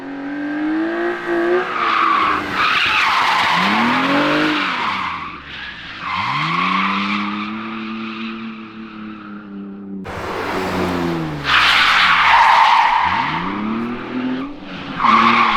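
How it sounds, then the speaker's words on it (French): A racing car sweeps past on a circuit in Spain, its engine pitch rising and falling with tyre squeal and skidding, then a second car screams by, both loud and close with no talking. "Une voiture passe."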